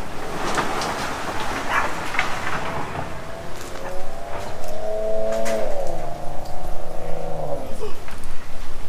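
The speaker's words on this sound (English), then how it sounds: "I heard dogs, bro." Dogs barking across the street during lawn care work, several sharp barks in the first seconds, followed by a passing car or engine drone with a rising tonal whine that dominates the rest.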